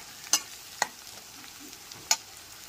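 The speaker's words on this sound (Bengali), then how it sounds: "2 থেকে 3 মিনিট ধরে পেঁয়াজটাকে হালকা লাল করে ভেজে নিয়েছি।" Onions frying in a pan for a soybean curry give a quiet, continuous sizzle. Three sharp clicks of a spoon or spatula against the pan, spaced apart, stand out above it.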